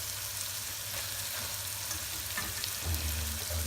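Onions sizzle steadily in a hot pan, cooked alongside sealed steak for braising, a continuous close frying crackle with occasional stirring scrapes and no talk.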